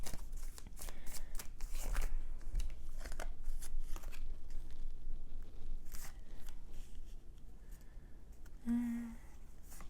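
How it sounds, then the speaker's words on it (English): A deck of tarot cards is shuffled close up, rapid papery riffles and flicks in repeated bursts that continue for about ten seconds with short pauses between. "I'm going to be shuffling on camera from the tarot to get a message starting off here."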